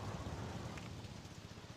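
Steady rain falls in the RollerCoaster Tycoon game, a soft even patter with a low rumbling undertone, unbroken and without voices.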